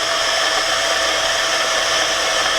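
Moer Sky personal blender running while mixing a smoothie, held upside down, giving a steady, even whirring motor hum for a few seconds, moderately loud and unchanging, with no speech.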